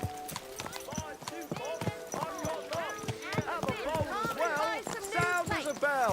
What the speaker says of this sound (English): Don't you know how to ride a horse?